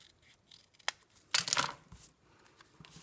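Scissors trim the edge of a paper card panel for a layered edge-lit card, a few close, crisp snips and one brief cutting burst in a quiet room.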